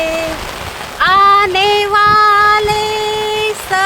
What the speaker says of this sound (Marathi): जास्त वाढेल पाऊस, वारा पण खूप येतं